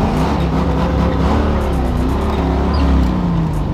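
A cammed LS V8 swapped into a 1987 Mazda RX-7 FC drift car roars loudly and steadily at close range, a continuous engine drone with faint tire noise and no speech.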